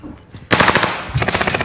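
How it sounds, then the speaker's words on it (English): A PPSH submachine gun hip-fired in Call of Duty Warzone Rebirth, two loud rapid bursts of automatic fire separated by a brief pause, close and dominant with no talk. "I downed him with a fucking hip fire from here"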